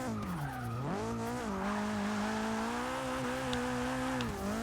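Tires squeal continuously as a Nissan 240SX drifts in Forza Motorsport 6, a loud, steady screech over a droning engine whose pitch dips and rises as the car slides through a corner.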